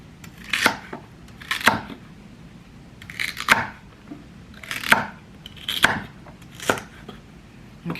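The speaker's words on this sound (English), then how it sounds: "The next step, I'm going to cut up some celery." A knife chops celery on a board in about eight distinct, crisp strikes spaced roughly a second apart, close and clear with no talking.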